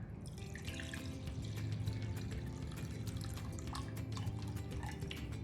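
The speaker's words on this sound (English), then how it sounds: "I'm gonna start off with a cup of white vinegar." White vinegar poured for a spicy, garlicky fridge-pickle brine makes a steady liquid trickle and splash that runs continuously at moderate level, with no talking.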